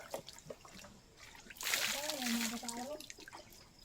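Water splashes and sloshes during bathing at a countryside well in the Philippines, a burst of splashing lasting a couple of seconds after quieter moments, with a voice speaking nearby over it.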